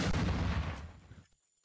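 A grenade explodes in a video game, one deep heavy boom that rumbles and fades away within about a second, loud and close with no talk.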